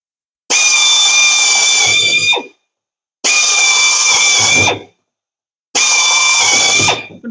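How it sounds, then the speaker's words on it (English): A power drill boring rivet holes through a Sportspal canoe hull, three separate bursts of about one and a half seconds each. Every burst starts sharply, holds a loud, steady whine and winds down, with short silent gaps between bursts. "which way you're drilling your holes doesn't make a big pile of difference"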